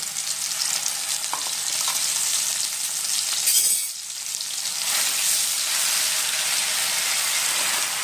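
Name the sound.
onion, dried chilli and turmeric masala frying in oil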